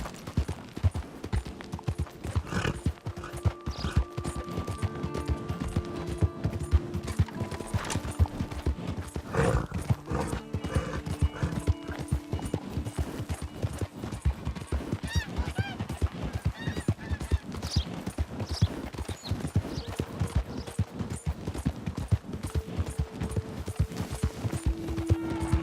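A horse galloping in Red Dead Redemption 2, hoofbeats pounding in a fast steady rhythm for a long stretch, close and prominent, with occasional other game sounds mixed in and no talk heard.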